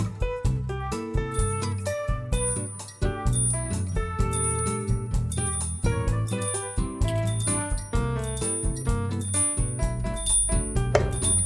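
Small bells on an electrostatic pendulum charged from a 30,000-volt source, ringing in a rapid, continuous run of bright metallic dings and tinkles at close range, with no voices.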